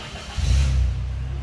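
A Daihatsu Ayla turbo car engine idles, then swells into a short, loud rev and holds a steady low rumble close by.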